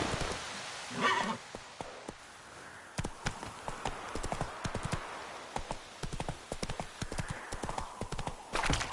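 Roach, the horse in The Witcher 3, gallops in rapid, uneven hoofbeats that clatter close and loud, with a brief whinny-like burst near the start and a soft rain-like hiss underneath.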